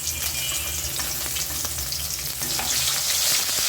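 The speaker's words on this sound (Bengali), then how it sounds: "যে মাছগুলো ছিল এগুলো আমি বেজে নিচ্ছি" Fish frying in oil in a pan for a tomato fish curry, a steady loud sizzle with crackling spits throughout and no voices.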